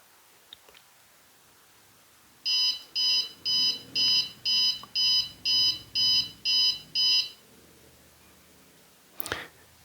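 An Arduino Uno-based DIY electronic egg timer sounds ten evenly spaced, high-pitched warning beeps in a steady rhythm, preceded and followed by faint clicks and handling noise.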